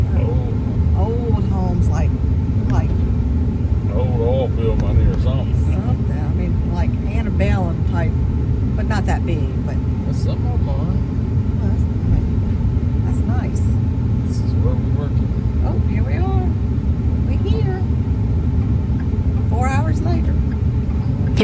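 A car drives steadily with a constant low road and engine rumble, while people talk over it intermittently throughout.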